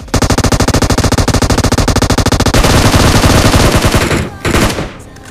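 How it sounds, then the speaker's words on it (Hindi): Rapid automatic gunfire in the mobile battle royale game PUBG Mobile: a loud, close, unbroken stream of shots for several seconds that cuts off near the end, followed by a brief burst. "क्योंकि वो किसी और पे फायर कर रहा था।"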